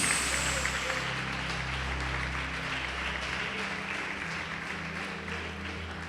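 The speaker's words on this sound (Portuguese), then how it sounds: "Você pode aplaudir o Senhor Jesus por isso?" A church congregation applauds during a Portuguese-language sermon on faith and prayer, a steady wash of clapping that fades gradually over several seconds, with a low hum of the hall underneath.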